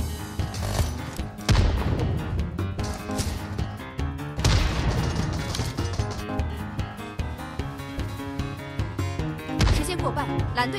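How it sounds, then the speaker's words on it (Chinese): A sniper rifle fires in a shooter video game, mixed with other gunfire, explosions and crashes in a dense battle, with a few especially sharp, booming shots standing out and a voice talking throughout. "一枪精准命中，这把狙击枪不管打中哪里，估计都只需要一枪。"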